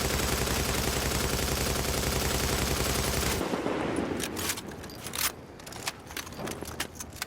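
Rapid automatic gunfire from the player's weapon in The Division on PS4, a dense continuous burst for over three seconds, then scattered sharp shots and clicks trailing off.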